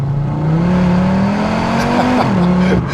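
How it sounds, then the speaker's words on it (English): An Audi RS3 engine drones loudly from inside the car, pitch climbing slowly and steadily as it pulls through turbo lag, then dropping briefly at a shift before steadying again. "There is a bit of turbo lag, so anything under 3K or almost 4K, you're gonna have almost no power."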